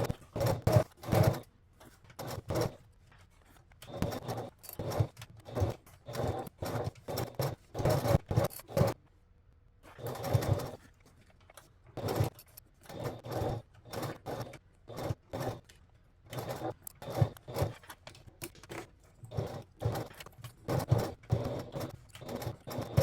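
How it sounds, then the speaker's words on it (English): A sewing machine stitches a fabric gusset onto the back panel of a crossbody bag, running in quick, repeated bursts with short pauses between them, close and fairly quiet, with no talking. "now let's go to the sewing machine and stitch the gusset onto the back panel."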